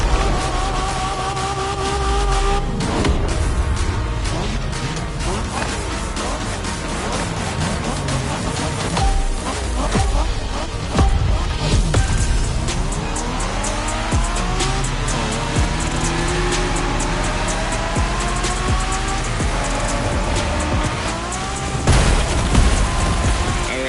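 Engines roar continuously in a Japanese-style street race in a video game, revving up and down through gear shifts while tires squeal and skid, with occasional heavy thumps over a dense, loud mix.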